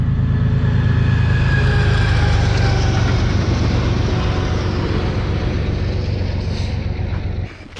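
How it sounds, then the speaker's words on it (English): A busy double-stacked freight train passes close by at a desert rail crossing, a loud steady rumble and rattle of wagons that holds throughout and fades slightly near the end. "and another train comes by."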